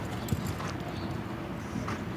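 Horse hooves clip-clop softly at a moderate distance, with a steady, muffled rhythm over a low ambient hum, during dressage at the Rolex Kentucky Three Day Event.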